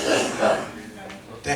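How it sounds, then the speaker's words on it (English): A person in a comedy-night audience coughs, with a couple of rough bursts standing out against room noise and murmuring voices. "That cough, that is the cough of success."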